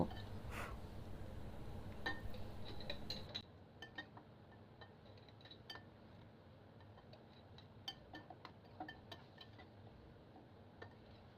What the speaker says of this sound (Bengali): এখন আমি এর মধ্যে এই আচারগুলো ভরে নিব